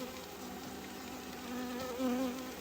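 Honeybees hum steadily during a subarctic hive inspection in August rain, a close, continuous drone with a few individual bees rising in pitch as they fly near.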